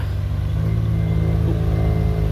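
A Komatsu PC70-8 excavator engine roars at high revs close by, a steady, loud diesel drone with strong low rumble and no talk.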